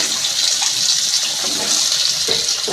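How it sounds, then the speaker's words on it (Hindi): Eggplant pieces dropped into hot oil fry with a steady, loud hiss of bubbling oil and no voice over it, as aloo baingan is cooked. "अब इसमें हम बैगन फ्राई कर लेते हैं।"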